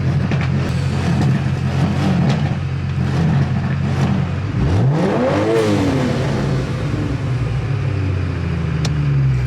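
Car engine revving at a Japanese car meet, steady loud mechanical roar with a sweeping rise and fall in pitch midway as the revs climb and drop, over constant outdoor background noise.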